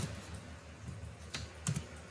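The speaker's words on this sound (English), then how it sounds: "I am typing dict dot" Computer keyboard typing during Python coding work on a dictionary keys loop: soft, close keystroke clicks in an irregular run, with a couple of sharper taps near the end, and no voices.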